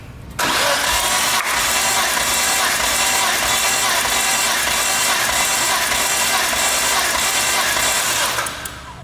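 A Nissan GT-R engine cranks over continuously on the starter during a compression test, a loud, even, rapid rhythmic churning that lasts about eight seconds without firing, then cuts off.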